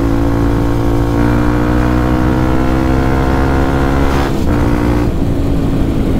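A Honda CRF150L supermoto motorcycle engine revs loudly and steadily, its roar holding high throughout with brief dips near the end, no voices present.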